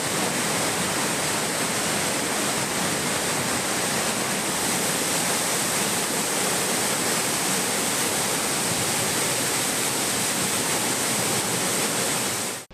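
Courtallam waterfall in heavy spate after a night of rain, water gushing out beyond the safety barrier: a loud, unbroken roar of rushing water that fills the whole clip, with no voices.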